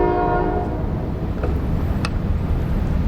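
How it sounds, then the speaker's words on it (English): A train passes close by, a loud continuous low rumble of wheels on rail filling the clip, with brief higher tonal squeals or horn traces over it. "and there goes the train"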